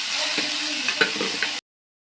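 Tomato dropped into a golden-browned garlic tempering fries with a steady sizzle and a few soft stirring knocks, then cuts to silence before a brief return at the end.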